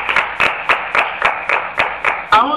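Steady rhythmic hand clapping from a congregation at a church service, about every third of a second, close and loud, sustained evenly for the whole stretch.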